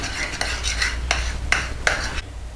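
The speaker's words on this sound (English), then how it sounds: "So if we just mix the milk in with the banana before we add it to our butter, sugar and egg mix." A spoon stirs milk into mashed banana in a bowl while making banana bread, giving a steady run of close, rhythmic scraping and sloshing strokes with no one speaking.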